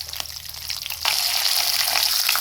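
Dried red and green chilies sauté in hot oil for beetroot poriyal. The sizzle is close and steady, then swells sharply louder about a second in and stays bright and crackling without any talk.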